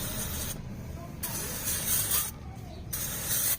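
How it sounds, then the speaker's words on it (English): Brake cleaner is sprayed onto the front brake parts of a 2007 2WD Toyota Tacoma 2.7, giving repeated hissing aerosol bursts with short gaps between them, fairly close and moderately loud. "We're going to clean this up with some brake cleaner."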